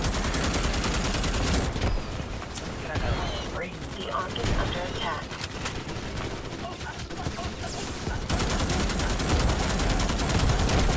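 Constant gunfire and chaotic battle noise in Starship Troopers: Extermination, with a steady roar of shots across the whole stretch and a louder burst at the start and end. A voice speaks over it.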